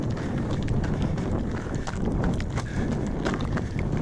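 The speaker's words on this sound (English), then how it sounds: "You see it as the wind starts blowing." Wind buffets the microphone in a constant rough, broadband roar while a vehicle plods slowly along a tip track in a southerly breeze, with faint scattered clatter underneath.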